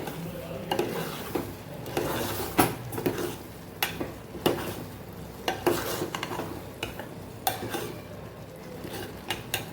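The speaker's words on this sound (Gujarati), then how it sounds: "આપણે મગ આની અંદર ઉમેરી દઈશું। ઉમેરી અને સરસ આપણે મિક્સ કરી દેવાનું છે।" Mung beans being stirred into cooked masala in a pan, with repeated scraping and clinking of a spoon against the pot over a soft sizzle, steady and close.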